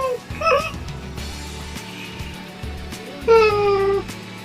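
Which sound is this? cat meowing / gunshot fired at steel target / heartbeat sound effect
cat meowing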